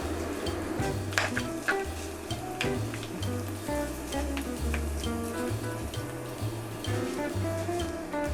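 Food frying in hot oil while vegan PF Chang's-style lettuce cups are made, a steady close sizzle and crackle running throughout with no talking.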